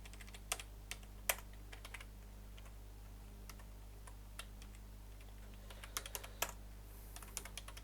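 Keys clatter on a computer keyboard in quick irregular bursts, close and soft, over a low steady hum with no voices.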